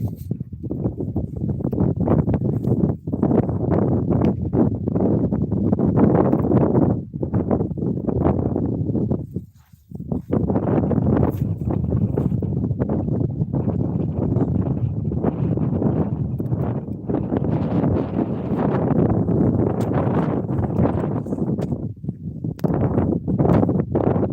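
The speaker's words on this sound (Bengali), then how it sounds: "মরুভূমির জাহাজ উট হলো মরুভূমির জাহাজ" Camels walking across the Saudi desert, their steady thudding footfalls continuous and close, mixed with wind buffeting the microphone throughout.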